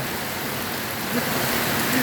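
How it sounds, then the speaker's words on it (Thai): Steady rain falls during outdoor spray painting, a dense, even hiss close by that holds at a constant level with no talk over it. "ฝนวันนี้มาแบบเงียบๆเลย"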